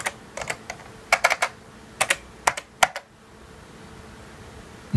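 Close computer-keyboard clicks as an nvflash command is typed in FreeDOS while flashing an NVIDIA GeForce 8800GT/GTS card for a Mac Pro. Quick bursts of about a dozen keystrokes, then a quiet pause.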